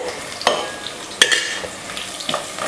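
Mint and coriander frying in a pan while a spoon stirs them, a busy sizzle broken by several sharp metallic scrapes and clinks at irregular intervals, close and fairly loud, no voices.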